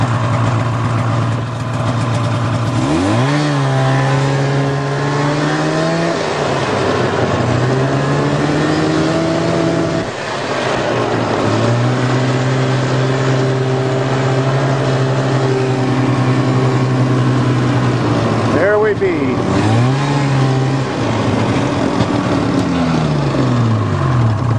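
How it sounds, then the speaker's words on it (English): An old car that has sat outdoors all winter cold-starts and idles loudly and close up, its engine catching after cranking, then settling, dipping and revving again in several surges across the clip, with no talk. "start some cold cars that have been sitting all winter in the back 40"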